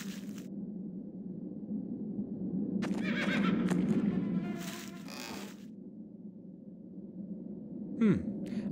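A horse whinnies in a drawn-out call over a low rumbling background in the game The Black Mirror, followed by a brief rising squeal near the end; no one speaks.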